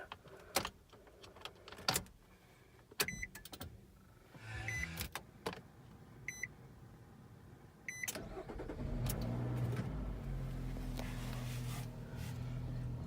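Inside a 2013 Nissan Rogue SV, a few sharp clicks and electronic chimes come first, then the engine starts and settles into a steady, low idle that carries to the end.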